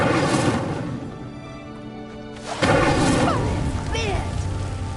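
A fire spell cast on a pyre in Hogwarts Legacy ignites with a sudden roaring whoosh and a crackling burst of flame, following a quieter stretch of low hum and game ambience.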